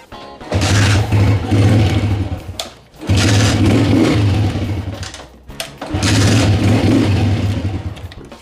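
A 125cc motorcycle engine is kick-started three times, each kick catching into a loud, close idle that runs for a couple of seconds before dropping off, with brief quiet gaps between attempts.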